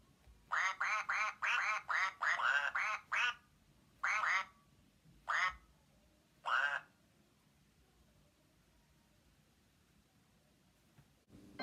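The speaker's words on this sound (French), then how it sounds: "10 petits canards font coin, coin." A run of quick, evenly spaced duck-like quacks, about nine in a row, then a few spaced-out calls trailing off into quiet, clear and close in a children's counting song setting.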